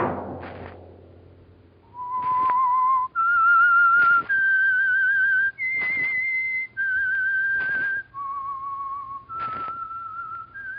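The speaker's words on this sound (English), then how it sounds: "Let that whistle be your signal for the Signal Oil program, The Whistler" Someone whistles the eerie theme of The Whistler radio mystery program: a clear, solo melody of sustained notes stepping up and down, each phrase punctuated by a sharp thump, heard close and alone.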